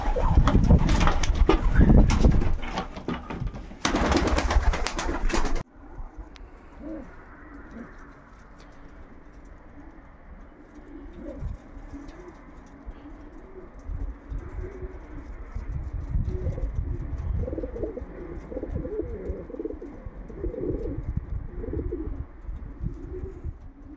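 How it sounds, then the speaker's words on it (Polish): Racing pigeons in a loft coo in a steady series of soft, low, rounded calls, close by, after a burst of louder noise at the start. "tu lotowe gołębie od taty też czekają na jedzonko"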